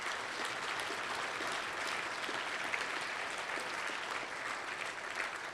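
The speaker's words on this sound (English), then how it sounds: "Give yourselves a big round of applause" Steady, dense applause from a large audience at a fundraising dinner for Minnesota troops, continuous and even throughout with no talk over it.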